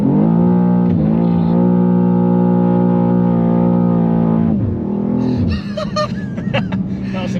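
A BMW G87 M2 with a twin-turbo setup holds a loud, steady engine drone at high revs for several seconds, then the pitch drops sharply as it launches, with rougher, crackling engine noise and shifts following close by.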